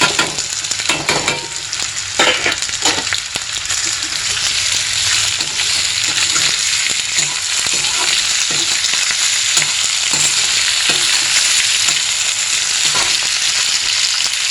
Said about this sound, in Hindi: अब इसमें मैं डालूँगी आलू।